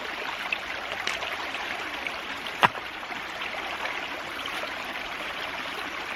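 A small stream flows steadily over rocks, washing silt out of a shallow dammed spot near a ram pump, a constant close rushing trickle with one brief knock partway through.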